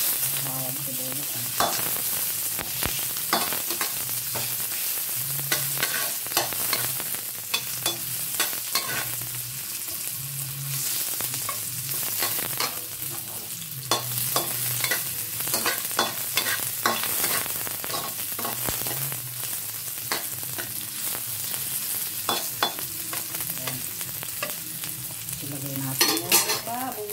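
Garlic and onion sauté in a pan for egado, a continuous close sizzle and crackle with frequent stirring scrapes and clicks across the whole stretch, no one talking.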